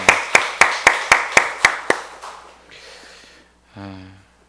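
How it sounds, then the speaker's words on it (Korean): A church congregation claps during a Sunday service to congratulate members on finishing a Bible reading, starting with about eight crisp, evenly spaced claps that quickly thin into scattered patter. A brief breathy voice sound follows. "우리 박수로 축하하도록 하겠습니다."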